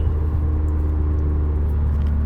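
Inside the cabin of a 2015 Subaru WRX with a catted J-pipe and a 3-inch straight exhaust, a deep, steady droning rumble holds without a break.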